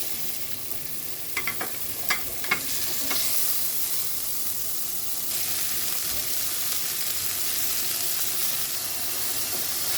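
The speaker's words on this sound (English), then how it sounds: "With the same pan, let's fry our meatballs." Meatballs frying in a pan, a steady close sizzle and hiss, with a few metallic clinks and scrapes early on as they go in and are moved around, no talking.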